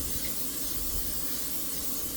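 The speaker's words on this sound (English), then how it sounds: "And I'm going to work with Pam cooking spray." Pam cooking spray hisses onto a pan in one continuous close spray that lasts a couple of seconds, steady and loud, with no voices.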